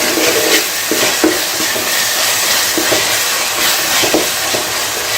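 Ginger garlic paste and ground masala sautéing in oil for biryani, a loud continuous sizzle broken by repeated scraping stirs in the pan.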